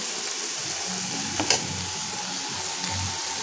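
Vegetables fry in oil in a pan for a vegetarian semolina pulao, giving a steady close sizzle with a brief clatter of stirring near the middle and no talking.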